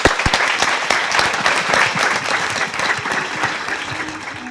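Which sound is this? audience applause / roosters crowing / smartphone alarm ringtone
audience applause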